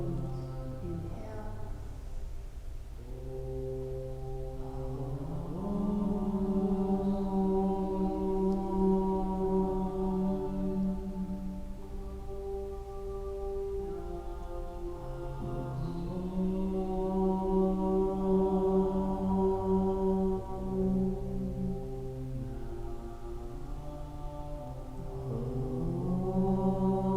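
Three long chanted Oms open a gentle chair yoga practice, sung in unison by voices with steady sustained tones, each rising after a breath, over soft background hiss.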